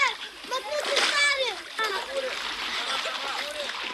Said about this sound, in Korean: 마을 입구에서 개울가에서 더위를 식히는 아이들을 볼 수 있었습니다.